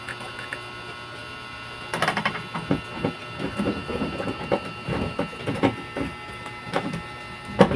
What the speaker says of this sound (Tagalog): i-screw ko lang.